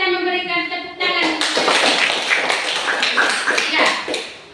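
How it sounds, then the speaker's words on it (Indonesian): A classroom of children bursts into loud, dense applause right after a teacher's short spoken line, the clapping steady and close for several seconds before tapering off. "Mari kita memberikan tepuk tangan."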